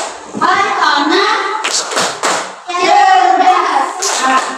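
Children in a classroom chant together in Indonesian while clapping their hands, with a few sharp claps landing between the sung phrases.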